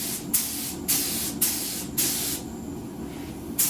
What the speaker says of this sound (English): so let's go ahead and get this primer on